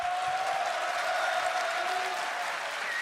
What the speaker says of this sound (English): receiving the applause from the guys here as well